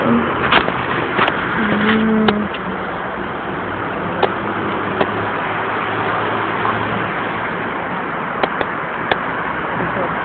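A car passes on a street in Kurume, Fukuoka, Japan, its engine rumbling close by before fading into steady road noise, with brief faint clicks and knocks nearby.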